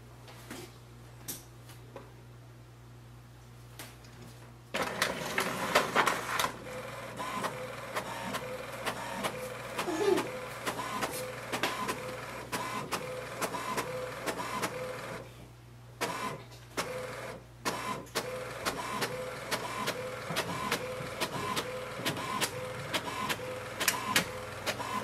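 An HP OfficeJet 250 portable printer starts printing after a quiet hum, then runs with a steady mechanical whir and rapid rhythmic ticking and clacking of the print head and paper feed, close and alone.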